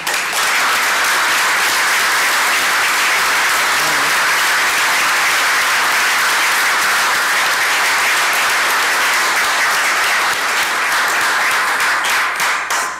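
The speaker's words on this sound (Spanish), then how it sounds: "Es cariñoso este aplauso" An audience applauds at a book presentation on the Mexican constitution, with loud, sustained, dense clapping that fills the room and continues steadily for about thirteen seconds.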